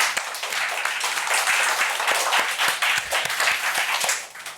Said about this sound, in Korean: 그 건축가 되신 하나님께 다시 한번 영광의 박수 올려드리겠습니다